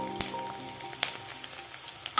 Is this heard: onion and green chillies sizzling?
yes